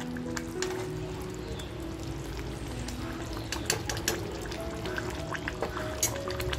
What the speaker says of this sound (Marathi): आवाज सुद्धा तुम्ही ऐकू शकताय किती रट येतोय